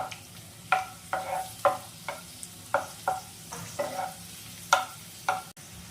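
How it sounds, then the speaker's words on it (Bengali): Raisins fry in hot ghee in a pan for egg halwa, giving a soft steady sizzle broken by a series of sharp spoon scrapes and clinks against the pan, with no talking. "কিশমিশটা আমি ভেজে নিচ্ছি"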